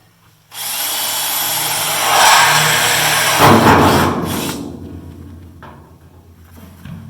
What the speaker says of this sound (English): Drill a pilot hole about 1/4 inch or so.